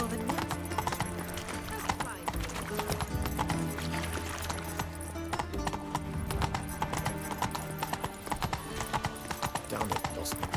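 Roach, a horse in The Witcher 3, gallops in a fast, steady rhythm of hoof clip-clops with an occasional whinny, set against game music and talk.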